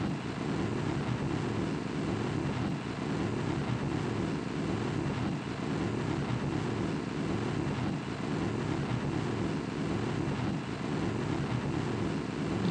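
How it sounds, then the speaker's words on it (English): Rocket engines fire in Kerbal Space Program as a steady, muffled roar that holds at an even level throughout, with no talk. "These engines sound pretty puny, honestly."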